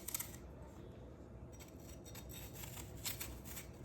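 A kitchen knife peels the skin off apples for homemade applesauce, making faint, soft scraping and snipping sounds in a quiet room.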